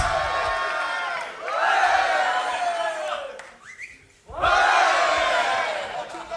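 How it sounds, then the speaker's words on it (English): At a beatbox battle in Florida, a crowd erupts in loud cheering and whooping, dips briefly into near quiet, then bursts into another roaring wave of cheers. "Make some noise for Blackroll"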